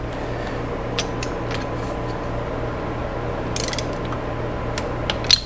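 A torque wrench tightening bolts on a vintage Honda CB350 engine during a rebuild, steady mechanical clicking and ratcheting close by with small metallic taps, no speech.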